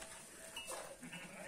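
Faint, thin bleating of a lamb or sheep on a farm, a couple of short wavering calls against a quiet, slightly noisy background.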